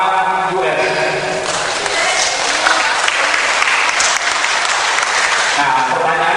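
Audience applause at a national seminar fills the whole stretch, loud and steady, with voices mixed into the clapping.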